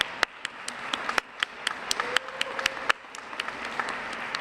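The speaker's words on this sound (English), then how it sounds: "if we could give her a round of applause" Applause from an audience at a foster youth luncheon: scattered, moderately loud claps ringing out irregularly over a short stretch, with a faint voice briefly audible underneath.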